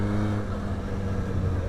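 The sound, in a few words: 2006 Yamaha R1 motorcycle engine revving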